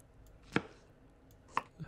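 Two crisp, distinct chopping thuds, about a second apart, as potatoes are cut in the mobile cooking game Toca Kitchen 2, with a faint third knock starting at the end over a quiet background.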